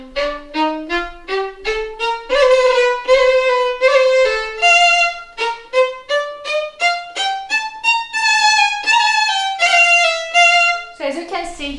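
A violin plays Kayser study number 15 in spiccato, the bow bouncing near a quarter from the frog: a steady run of short, crisp, detached notes climbing and falling, close and clear with no talking.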